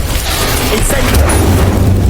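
An Incendio fire spell goes off in the Hogwarts Legacy video game, giving a loud, dense rumble with a booming burst near the middle that carries on into a sustained low roar.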